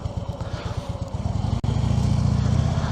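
A Harley-Davidson Road King idles and revs gently during slow-speed riding practice, a close, steady low engine rumble with rapid pulsing and a brief dip partway through.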